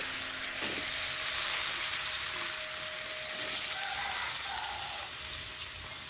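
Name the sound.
fresh amaranth stems added to spiced oil, frying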